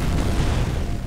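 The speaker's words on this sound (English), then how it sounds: "Grenade! Get down!" A grenade blast in the shooter game F.E.A.R. rumbles as a heavy, loud, low boom that fills the whole second without a sharp onset, dense and sustained like the tail of a close explosion.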